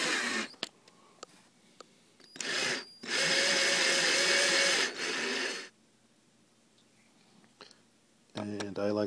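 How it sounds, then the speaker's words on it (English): A power drill drives flathead screws into a Babicz FCH-4 bass bridge, several short whirring bursts broken by clicks and pauses, close and fairly loud. "Now we simply proceed with installing the provided 5 flathead screws."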